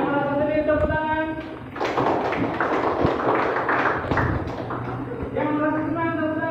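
Students in a classroom break into a burst of quick, scattered hand claps lasting a few seconds between stretches of a speaking voice.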